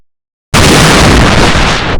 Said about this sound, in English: Then a fuel tank exploded.